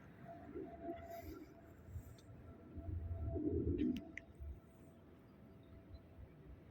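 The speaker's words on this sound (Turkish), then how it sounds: "Görüyorsunuz oyun kuşlarım hepsi buraya kondu" Tumbler pigeons kept as play birds coo softly after landing on a perch, faint murmuring calls over a low outdoor rumble that swells briefly in the middle.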